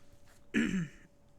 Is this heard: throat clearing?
yes